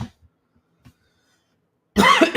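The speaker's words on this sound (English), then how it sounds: "Sorry about that cough." A single harsh, loud cough close to the microphone, bursting out suddenly after near silence with a few faint breaths and clicks before it.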